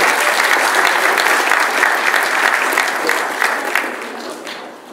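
Loud applause from the audience at a public health event honoring a local councilor, a dense, sustained wash of clapping that gradually fades toward the end.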